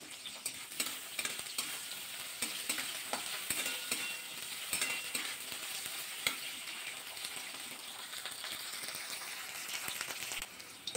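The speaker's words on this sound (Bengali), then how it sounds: "এবার কিন্তু নাড়াচাড়া করে উচ্ছেগুলো লাল লাল করে ভাজা করে তুলবো।" Bitter gourd stir-fried in a pan, a continuous crackling sizzle broken by frequent sharp scrapes and taps of the spatula, steady and close throughout.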